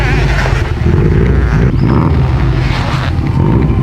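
A turbocharged Subaru STI roars continuously on a dyno, loud and close, a dense engine drone that stays steady throughout with a faint whine rising briefly partway.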